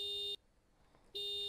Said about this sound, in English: Oh yeah, the alarm stopped.